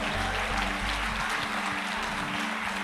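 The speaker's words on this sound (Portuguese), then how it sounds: "Você pode aplaudir ao Senhor?" A church congregation applauds during a service, a dense, steady clapping from many hands that fills the room for the whole stretch.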